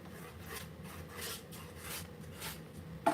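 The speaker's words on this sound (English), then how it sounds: "We are going to take our finger sander, 938." A finger sander lightly distresses painted wood furniture with a series of short rasping scrapes in an uneven rhythm, soft and close, with a sharp knock at the end.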